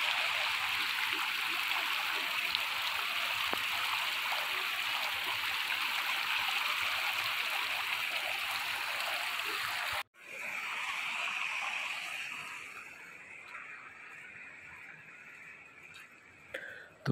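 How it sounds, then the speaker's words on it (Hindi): Glacier meltwater rushes down a mountain stream in Kashmir, a loud, steady roar close by that cuts off abruptly and then resumes slightly quieter. "पानी का ये खूबसूरत जो आवाज़ है ये ग्लेशियर से पानी आ रहा है"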